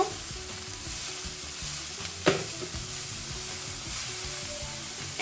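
Drumstick flowers seasoned with chilli and salt fry steadily in a pan with a loud, even sizzle. A single sharp clink of a utensil sounds midway, and no one speaks.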